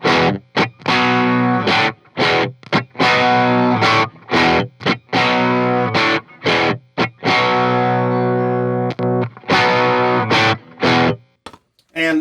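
Electric guitar through an Avatar 18 watt amp running both channels together, loud and distorted, playing chugging chords in a stop-start rhythm with short gaps between bursts, no talking.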